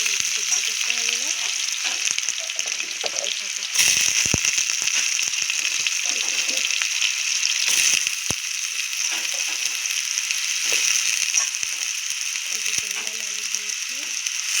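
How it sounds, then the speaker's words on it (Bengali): Potatoes fry in hot oil in a wok, a loud, continuous bright sizzle with intermittent clinks and scrapes of a utensil stirring, heard up close with no talking. "আস্তে আস্তে তেলটা গরম হয়ে গেছিলো, আলুগুলোকে ভেজে নেবো।"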